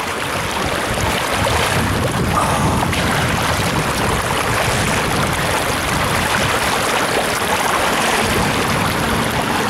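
A mountain stream in Romania's Transfagarasan area rushes steadily, a loud, close, continuous broadband wash of flowing water with no talk.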